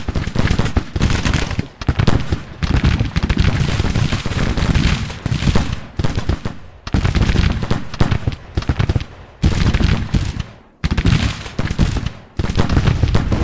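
Massed musket volleys crackle in the Civil War strategy game Grand Tactician, dense overlapping gunfire rolling in long sustained bursts separated by brief pauses, loud and close with no talking.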